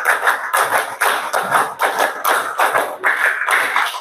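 A classroom of children claps in unison, eight evenly spaced bursts of group hand claps landing about every half second, loud and close with slight scatter in each burst.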